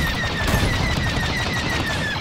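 Dense, steady volley of blaster fire rattling through a Star Wars Battlefront 2 starfighter battle over Takodana, rapid repeated zaps with a whining high tone running continuously at close range, no voices.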